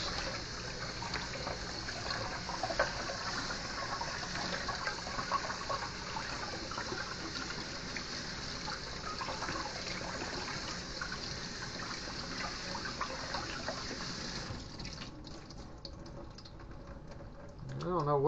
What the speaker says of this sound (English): rinse the lentils.